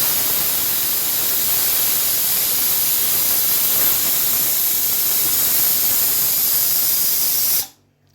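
Chickpeas boiling in a pot on a home stove, giving off a loud, continuous steamy hiss that holds steady before cutting off abruptly at the end.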